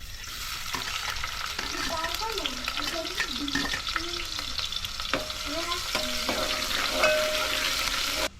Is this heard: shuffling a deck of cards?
no